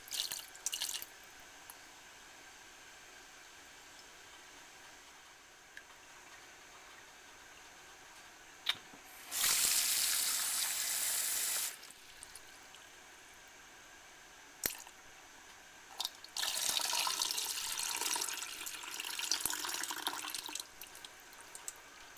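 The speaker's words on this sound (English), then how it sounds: "maybe a dozen successive rinses like this to get down to where there are just seeds left in the bowl" Tomato seeds rinsed with water in a bowl: two separate gushes of running, splashing water, each lasting a few seconds, with quiet squishy sloshing and drips in between.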